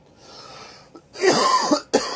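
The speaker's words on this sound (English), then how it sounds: "Stupid cold, dry cough." Dry cough from a cold, a few harsh, rasping bursts close to the mic, with a brief throat-clearing before and a short final cough.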